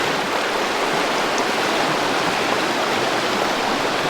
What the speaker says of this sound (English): I'm trying to show you the other part of the river and how high it is.